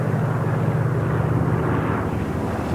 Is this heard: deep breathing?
no